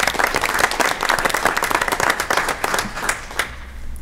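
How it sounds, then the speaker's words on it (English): A council-chamber audience gives a round of applause for the Blue Springs South Lady Jaguars softball team, repeat state champions; dense, steady clapping runs for about four seconds before thinning at the end. "Yes, give them a round of applause."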